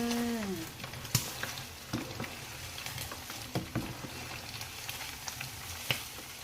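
Sun-dried beef fries in hot oil with a steady, close sizzle, scattered crackles and pops, and a few brief clinks from a utensil, with no speech.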